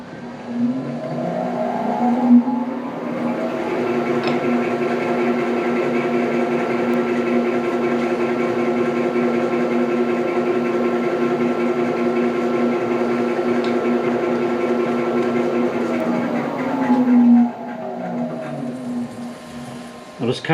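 A JFMT 530 x 2000 metal lathe under repair runs in back gear with a steady geared whine and hum, spinning up, holding a constant tone for about fifteen seconds, then winding down, close and fairly loud.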